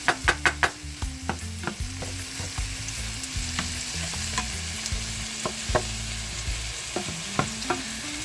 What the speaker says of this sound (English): I could just fry up this and eat it just right there.